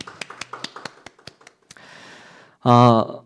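A small group at a Saturday family worship service in Dangjin church claps in a sparse, evenly spaced run of separate claps that fades into soft shuffling, followed by a short spoken voice.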